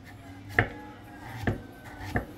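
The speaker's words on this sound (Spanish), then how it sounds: "Así picamos poco a poco" A knife chops through papaya pieces on a cutting board, giving three spaced, fairly soft thuds against a quiet background.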